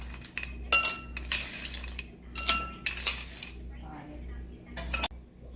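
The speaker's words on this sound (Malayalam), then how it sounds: "വേറൊരു ഗ്ലാസ്സിലേക്ക് ഐസ് ക്യൂബ് ഇട്ട് കൊടുക്കാം." Ice cubes dropped into a glass while making iced cold coffee, giving several sharp clinks and clatters spaced irregularly, close and fairly loud against a quiet room.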